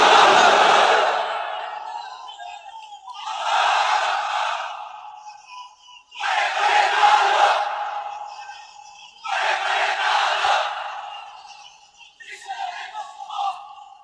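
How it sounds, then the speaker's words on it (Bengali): Large crowd at an Islamic religious gathering (jalsa) chanting takbir, loud massed voices roaring in unison in repeated call-and-response bursts separated by short pauses. "তাকবীর পড়েন তো দেখি, যারা চলবে বলতেছেন লিল্লাহি তাকবীর"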